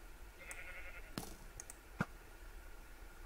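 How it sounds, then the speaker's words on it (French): A Minecraft sheep bleats once, a short nasal call near the start, followed by a few sharp game clicks against a quiet background. "Mais il y avait un mouton."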